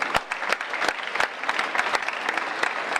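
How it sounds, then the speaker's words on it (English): An audience at a public lecture gives a round of applause for the chairman of Educare Trust, with sharp individual claps over a steady crowd patter and no talking. "I believe he deserves a round of applause"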